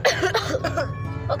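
A person coughs a few times in quick bursts, close and fairly loud, with a rough throat-clearing quality and no other voices.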